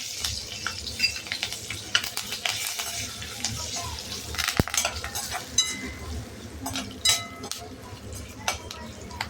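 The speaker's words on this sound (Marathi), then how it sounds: "कढीपत्ता छान तळला जाईल तेलामध्ये आणि शेंगदाणे छान तळले जाते" Curry leaves and peanuts fry in hot oil for a ragi puffed-grain chivda, with a steady sizzle and repeated clinks and scrapes of stirring against the pan, close and fairly loud.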